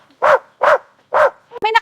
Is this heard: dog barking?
yes